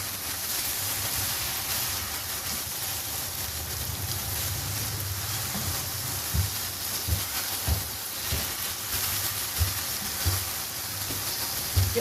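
Eggplant and potato pieces hitting hot oil in a pan give a steady broadband sizzle throughout, with a few soft clinks and stirring bumps near the end; no one speaks.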